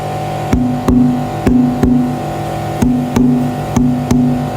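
A series of sharp taps on a tuned wooden acoustic guitar top, each ringing with a short resonant tone, in uneven pairs.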